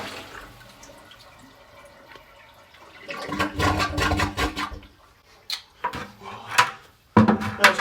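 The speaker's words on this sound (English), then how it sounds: "you take a big bucket of water and dump it down really fast" A toilet in a bathroom remodel flushed by dumping a bucket of water into the bowl: a quiet drip, then a loud rushing gush, a gurgling lull and a final splashing burst, all close by.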